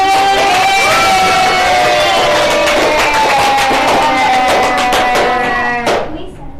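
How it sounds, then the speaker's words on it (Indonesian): A large crowd cheers and whoops loudly with dense clapping throughout, the roar holding steady before fading near the end. "Tepuk tangannya buat NTT"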